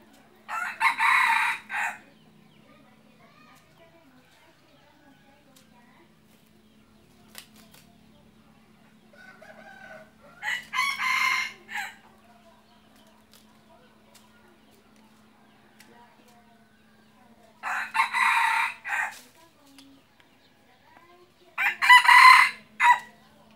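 A decoy rooster used for trapping jungle fowl crows four times, each loud, ringing call separated by long quiet stretches with only faint background hum.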